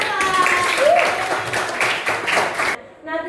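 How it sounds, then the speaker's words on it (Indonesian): In a grade 8 social studies class, students applaud a classmate with a loud burst of clapping that stops abruptly near the end. "Oke, tepuk tangan untuk Johan."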